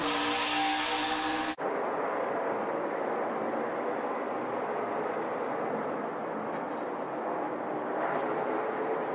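A NASCAR Xfinity Series race car at a championship race holds a steady, loud engine roar under throttle after a short burst of louder noise at the start, continuing alone for several seconds.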